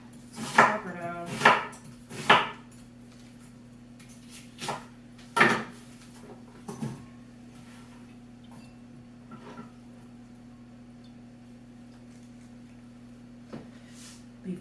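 Carrots being chopped with a knife on a cutting board, with several loud close thuds early on, then sparser, fainter knocks over a steady low electrical hum.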